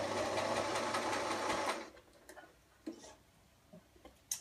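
A sewing machine stitches the seams of a stuffed toy bird, running in a fast steady whir for under two seconds before stopping, then soft handling clicks of fabric being pivoted.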